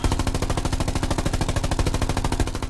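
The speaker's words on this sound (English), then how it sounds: "Enemy infantry firing." Rapid, steady automatic gunfire from enemy infantry in the World War II shooter Hell Let Loose, a dense stream of shots at an even rhythm lasting throughout, loud and close with no talk over it.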